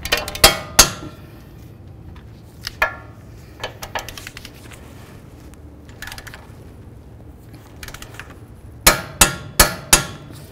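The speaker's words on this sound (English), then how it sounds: "Let's torque these bolts to 148 foot-pounds." A torque wrench tightens strut bolts on a 2005-14 Ford Mustang. Sharp metallic ratcheting clicks come in a quick burst, then scattered single clicks, then another rapid cluster at close range.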